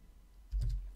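Keystrokes on a computer keyboard during a TrueCrypt setup, heard as a short burst of a few close clicks in the second half after a quiet start.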